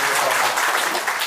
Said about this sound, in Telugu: గట్టిగా చప్పట్లతో